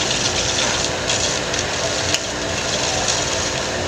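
Repaired ceiling fan running with its blade assembly removed, a steady close whirring hum with a soft broadband whoosh, unbroken across the few seconds apart from one faint click.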